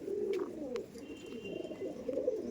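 Andhra pigeons coo softly nearby in a run of low rolling calls, a few brief higher chirps dotted among them, and no one speaks.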